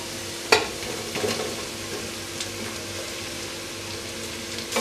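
Sliced onion goes into a pan of frying crushed ginger and garlic. A sharp hiss rises from the hot oil, then a continuous even sizzle with a few stirring scrapes, close by.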